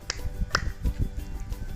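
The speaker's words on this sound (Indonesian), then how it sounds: "Yang ketiga adalah tepuk ganda." Scout double clap (tepuk ganda) at a scouting lesson, heard as a few sharp, close hand claps spaced unevenly over a brief quiet stretch, with no talking.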